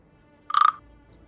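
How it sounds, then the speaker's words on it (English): One short frog croak nearby, a rapid pulsing rattle lasting about a third of a second, standing alone against near silence. "Sorry, there's a frog around here. Can you hear it?"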